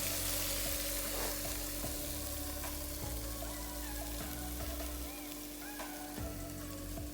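Sausage slices and melted cheese sizzle steadily in a frying pan for a stovetop raclette, a dense, continuous crackle with a faint low hum beneath and occasional soft knocks.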